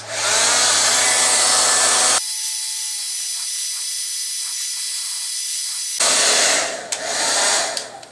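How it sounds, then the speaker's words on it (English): Conair Gel Grip 1875 hair dryer blowing steadily at close range with a loud, broad rushing hiss, switching to a thinner, quieter setting midway before returning to full roar, with faint handling noises. "I have this Conair Gel Grip 1875"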